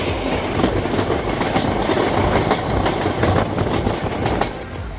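Passenger train running on rails, heard from inside near the toilet, a steady loud rumble with repeated clickety-clack wheel beats throughout, no one speaking.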